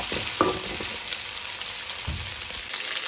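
Chopped vegetables for sambar sauté in a pan with a constant close sizzle and a few soft scraping stirs, heard alone without talk.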